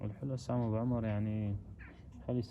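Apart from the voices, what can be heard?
None of the usual background noises is heard.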